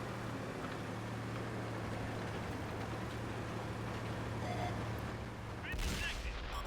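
A steady mechanical rumble from a tank in World of Tanks console play, with the E 50 M on the field, broken near the end by one loud, sharp gunshot burst that briefly swamps the drone.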